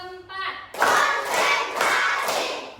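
Rhythmic hand clapping from a group of children in a classroom, fairly loud and close, with a few quick claps followed by a burst of overlapping claps and voices.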